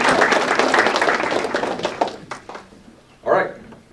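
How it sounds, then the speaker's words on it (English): Volunteers at a county scholastic bowl competition get a round of applause from the audience, dense clapping that thins out after about two seconds into scattered claps, with a short final burst near the end. "let's just give them a round of applause if we could"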